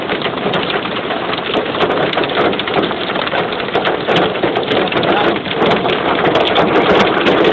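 Large hailstones pound down steadily during a severe hailstorm in Rhode Island, a loud, dense and unbroken clatter that carries on without a break.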